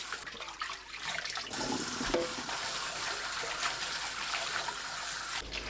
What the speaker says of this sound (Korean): 찬물에 두세 번 헹굽니다